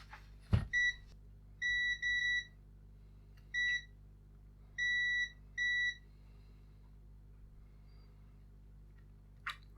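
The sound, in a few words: continuity tester beeping while probing circuit board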